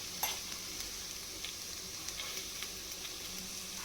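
Grated coconut lightly roasting in a pan, a soft steady sizzle with faint stirring scrapes and small ticks, fairly quiet and close, with no voices.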